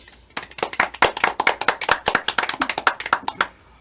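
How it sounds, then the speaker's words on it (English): A small group claps softly and unevenly for a few seconds, a loose patter of light hand claps that builds and then tapers off. "I love our little golf claps after we Yeah. finished."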